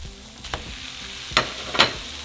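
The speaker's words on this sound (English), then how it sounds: "we're going to add our meat" Meat added to a pan of cooking onion and tomatoes for gorditas, a soft sizzle under a few sharp scraping and stirring knocks from a utensil.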